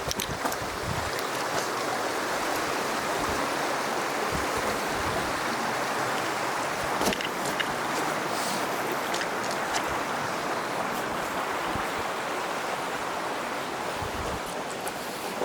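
A creek being crossed barefoot during natural-movement practice, with a constant broad rush of flowing water and scattered splashes and footfalls throughout, close and steady with no talk.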